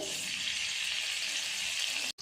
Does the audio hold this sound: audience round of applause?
no